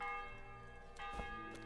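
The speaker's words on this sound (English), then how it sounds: "The church bell's ringing." A church bell rings in the medieval video game Kingdom Come: Deliverance, sounding faint and distant in sustained ringing tones with a couple of softer strikes.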